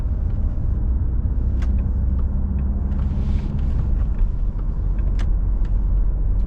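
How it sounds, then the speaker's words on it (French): A 2015 Citroën C5 2.0 HDi 140 diesel engine is heard from inside the moving car as a low, muffled, steady rumble with road noise underneath and a few faint ticks and clicks over it. "Donc on entend légèrement le moteur, mais c'est pas trop... c'est assez feutré, le niveau sonore."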